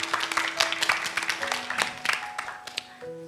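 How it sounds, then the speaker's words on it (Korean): An audience at a youth festival claps, the sharp individual hand strikes scattered and uneven, with soft sustained musical tones underneath. "큰 박수로 출발하도록 하겠습니다"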